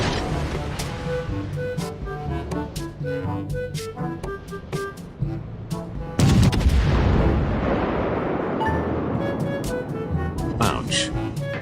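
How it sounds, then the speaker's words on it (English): Naval gun salvos in World of Warships, with heavy booming blasts crashing in as a loud burst midway, then rumbling explosions and impacts layered over game music and a continuous talking voice. "we fired 3 salvos at him and citadeled him 3 times"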